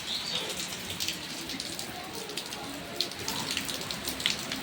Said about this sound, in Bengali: এতটাই পরিমাণে বৃষ্টি হচ্ছে।